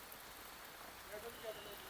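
Rain falling in a forest on a mountain road trip, a steady hissing patter that fills the whole stretch, with a few faint bird-like chirps and quiet talk underneath.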